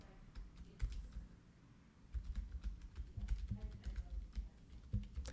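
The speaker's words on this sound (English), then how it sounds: "So whenever you start typing" Close, quiet clatter of fingers typing on a computer keyboard, irregular quick keystrokes in short bursts with a brief pause before a denser run resumes.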